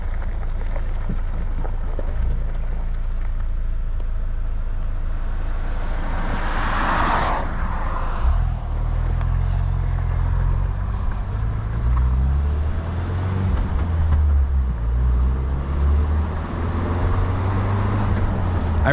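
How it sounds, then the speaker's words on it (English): A 2021 Ford Bronco with a manual shifter drives along a back road, its engine a low, steady rumble with a rising shift partway through, under continuous road and wind noise inside the cabin. "Let's go ahead and take it on this little back road and go for a little drive."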